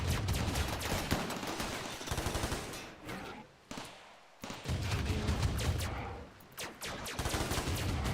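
Rapid bursts of double autocannon fire in the video game Rimworld, loud and sustained across the clip with a couple of brief pauses, no talk over it.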